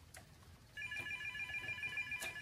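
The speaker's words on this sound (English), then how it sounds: "And that's my phone ringing." A phone rings with a steady electronic ringtone that starts partway through and carries on at moderate volume over a faint room background, no voices.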